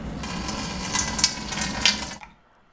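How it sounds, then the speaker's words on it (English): Cold water pours steadily from a tap over a hot tin of condensed milk just boiled for caramel, a continuous close splashing rush that stops abruptly. "I'm going to pour some cold water on it because I want it to cool fast."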